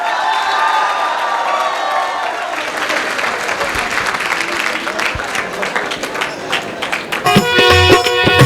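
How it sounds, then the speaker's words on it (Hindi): Audience at a university farewell event applauds and cheers in a sustained burst of dense clapping, with a mix of voices and louder, sharper claps toward the end. "तालियां बजनी चाहिए ना"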